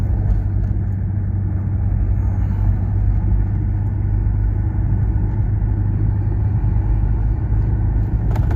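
Steady, loud engine rumble and road noise from a Peugeot 505 diesel car driving slowly on a country road toward a farm, a constant low drone throughout with no voices.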